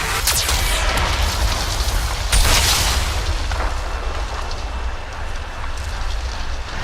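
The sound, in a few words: Geth cannon firing in video game Mass Effect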